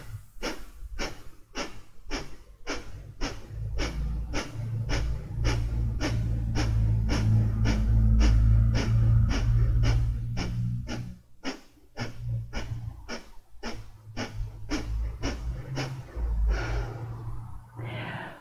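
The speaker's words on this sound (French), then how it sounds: "prenez une grande expiration, videz les poumons, laissez-vous inspirer" Deep breathing during a morning flow exercise, long slow exhales and inhales heard close over a steady run of rhythmic clicks or taps, with no talking.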